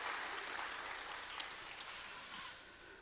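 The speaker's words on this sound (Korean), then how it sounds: "우리 감사와 영광의 박수 올려드립니다." A church congregation applauds during a Sunday worship service, a soft, fairly distant wash of clapping that holds steady and then thins out near the end.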